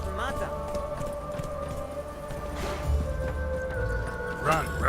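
In The Witcher 3 video game, the horse Roach gallops with a steady run of close hoofbeats, heard faintly beneath game music and a voice.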